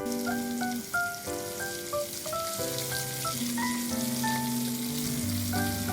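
Steady crackling sizzle of pork frying in a pan, with faint music playing in the background.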